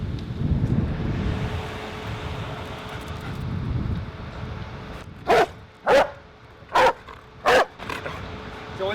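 A police K-9 dog gives four loud, sharp barks in quick succession from inside a patrol car, following a stretch of wind rumble and low handling noise.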